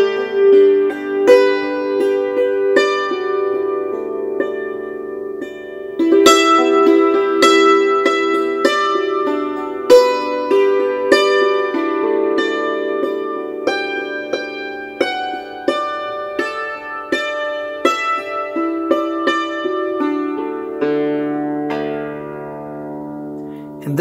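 Hammered dulcimer playing the hymn Holy, Holy, Holy: a steady run of struck, ringing notes with a percussive attack and lingering decay, melody and chords layered, played solo and close for about twenty-four seconds.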